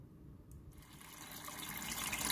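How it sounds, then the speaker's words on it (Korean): Cold tap water runs steadily over boiled eggs, a continuous gushing splash that grows slightly fuller and louder, heard up close with no voices. "찬물 샤워 갈게요. 그래야 껍질이 잘 벗겨집니다"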